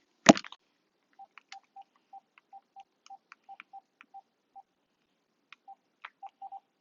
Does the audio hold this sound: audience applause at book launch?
no